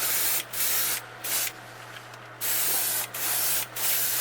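Aerosol silver paint sprayed onto a fishing bait in short bursts, loud close hissing blasts separated by brief pauses, some longer than others, over a steady low hum.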